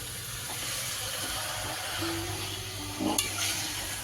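Meat frying with spices in a small, crowded kadai, giving a steady, even sizzle and hiss throughout, with a faint stirring clatter near the end.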